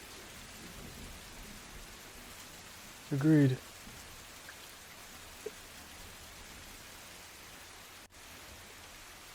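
Steady rain ambience with thunder undertones used as tabletop-game background, a continuous soft hiss throughout while one person briefly speaks over it.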